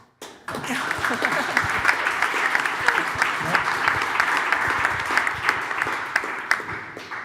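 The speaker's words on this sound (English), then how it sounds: "I think that deserves applause." Conference audience applause breaking out after a brief pause, steady clapping with distinct individual claps audible throughout, moderately loud and continuing without talk.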